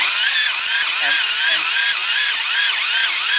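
A power drill whines steadily at high pitch while working on a Nissan QR25 engine rebuild, its motor pitch wavering slightly as it strains, loud and close throughout.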